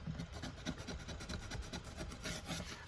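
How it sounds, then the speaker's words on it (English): Sandpaper rubs over a carved soft cottonwood spirit figure, a close, continuous scratchy rasping with quick back-and-forth strokes. "you get in with a little bit of sandpaper if you want. And just take out those little rough spots"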